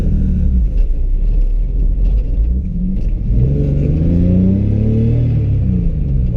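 A BMW E30 drift car with a six-cylinder engine revs hard, the rasping engine note climbing and rising through sweeping pitch changes, loud and close, with no voices over it.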